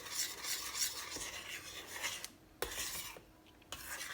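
A spoon stirs seasoned pasta sauce in a pot, soft scraping and rubbing strokes close by, continuous with a couple of brief pauses and one sharper clink, no talking.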